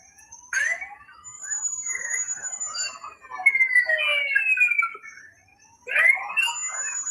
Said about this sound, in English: You hear my alarm going off outside?